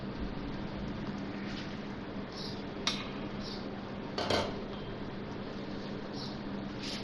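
Metal cooking pot lid lifted off a simmering chicken korma, two brief clanks of metal against metal over a steady hiss of kitchen background.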